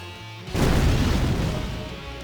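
Fire spell attack in Final Fantasy X: a sudden loud burst after a quiet half-second of background music, then a dense, sustained roaring crackle that slowly fades.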